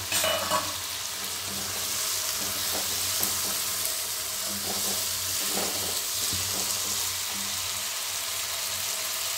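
Freshly shelled green peas frying in a wok for a Bengali turnip curry, a steady bright sizzle with occasional soft stirring scrapes and clicks, close and continuous with no talk.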